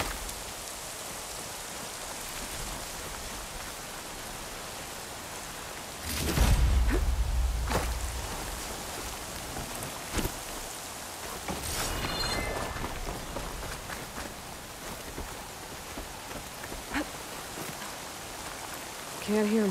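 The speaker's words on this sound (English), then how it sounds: "Can't hear much over the rain." Steady rain pours throughout in Horizon Forbidden West, with a heavier rushing burst partway through and occasional sharper splashes, loud and enveloping.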